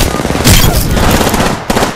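Rapid automatic gunfire in Apex Legends, a loud close burst of back-to-back shots with a brief pause and a sharper crack near the end, with no talk.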